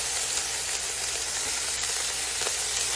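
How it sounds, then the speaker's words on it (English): Pork shoulder sizzles skin side down as it sautés in an Instant Pot, a loud, steady hiss of frying with small pops and crackles throughout. "we're gonna saute that pork shoulder on each side. We're gonna start with the skin side down"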